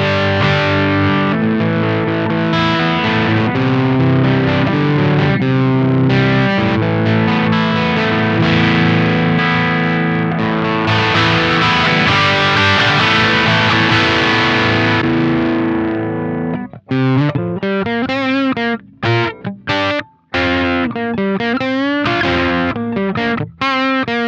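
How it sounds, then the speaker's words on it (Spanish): An electric guitar played through a Dunlop MXR Mini Fuzz Face pedal gives a thick, loud, sustained fuzz-distorted tone, with chords held at length and then choppier, stop-start phrases with short gaps near the end. "al prender el pedal, lo que hago es, obviamente te va a bajar un poco el volumen, te va a engordar el sonido"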